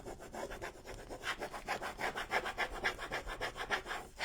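Rhythmic back-and-forth rubbing of a rub-on transfer onto a dry painted surface for a spring Easter project, about a dozen steady scraping strokes, close and moderately loud with no talking.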